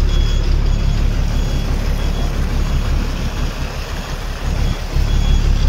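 A water tanker truck stands parked by trees along a roadside, a loud, steady engine rumble running the whole time with a brief dip in intensity partway through.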